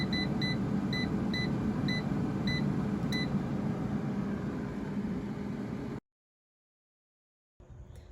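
A kitchen air fryer that has finished cooking portobello mushroom pizza sounds a string of short, evenly spaced electronic beeps over a steady fan whir, then goes silent before a brief return of background noise.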